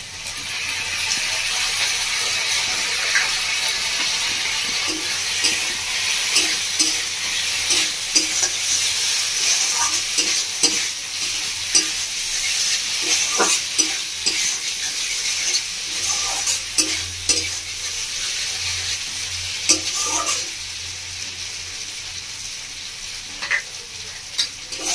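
Mixed vegetables and paneer fry with tomato sauce, chilli sauce and garlic in a pan, giving a continuous close sizzle punctuated by frequent spoon scrapes and clinks as the mixture is stirred.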